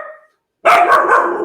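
A puppy, apparently a terrier, lets out a short whimper and then a loud, sustained high bark close by, with no talk over it.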